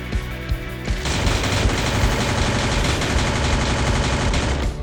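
Rapid automatic gunfire in the Free Fire mobile shooter, a few isolated shots followed by a continuous, loud, dense burst of rounds lasting several seconds, with no talk.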